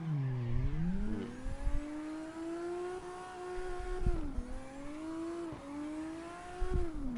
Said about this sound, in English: why in the world did they give this car a 4-cylinder motor?